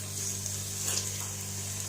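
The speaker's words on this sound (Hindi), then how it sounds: "ये हमारा किनवा जो है ये आप देख सकते हैं, इसको हम अच्छी तरह जो है वो भून लेंगे" Quinoa roasting in a pan with spices for a pulao, a soft even sizzle throughout with a brief louder rustle of stirring in the middle.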